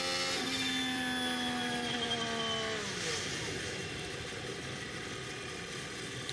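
Formula 1 car at 2024 pre-season testing on the straight near turn 1, engine note with stacked harmonics holding steady then sliding down in pitch as it drops into anti-stall, settling into a rough, continuous rumble, heard at moderate distance with no talk.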